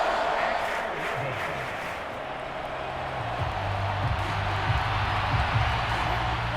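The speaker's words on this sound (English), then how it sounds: "This crowd turning up the decibel level." Football stadium crowd at an NFL preseason game between the Steelers and Lions, a loud sustained roar filling the space, with a commentator's voice running over it.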